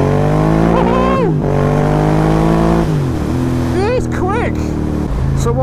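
Motorcycle engine running loud and close, holding a steady tone between repeated revs that rise and drop sharply, with the pitch climbing through gear-like steps.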